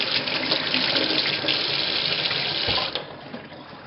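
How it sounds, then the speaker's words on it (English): Hands are washed under a running kitchen tap during cooking, with a steady rush of water that cuts off sharply near the end, leaving a quieter trickle. "Wash my hands."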